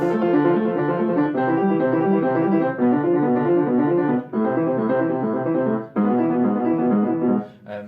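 Full piano chords played in a steady sequence, sustained and resonant, with brief pauses between phrases and no voices.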